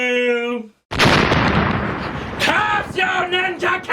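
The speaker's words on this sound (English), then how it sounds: "You should be hearing the explosion in about 3, 2..." A cartoon explosion of a death ray in an adult Ren and Stimpy cartoon: a short tonal sound cuts off, then a loud, sustained boom and rumble bursts in, followed by debris-like pops and ringing.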